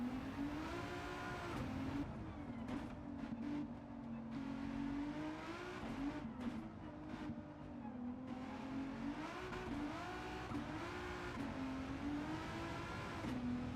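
A powerful front-wheel drive Renault Avantime races in Gran Turismo, its engine revving high and wavering through gear shifts with brief dips, a continuous loud in-game drone with no talking.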